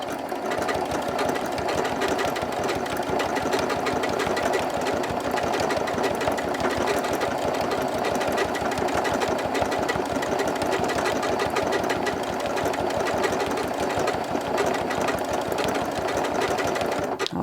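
A sewing machine stitches an appliqué with a fast, even mechanical chatter of needle strokes that runs continuously and loud, without any talking.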